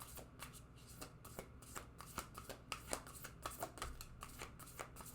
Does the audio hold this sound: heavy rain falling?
no